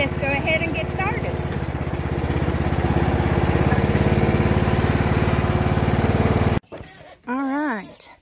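A mower deck on a John Deere tractor cuts grass with a steady, loud engine drone that continues for several seconds before stopping, followed by someone speaking.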